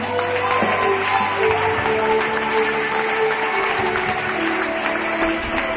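A church congregation applauds steadily throughout, a dense continuous wash of clapping at moderate level with faint voices and a low hum mixed beneath.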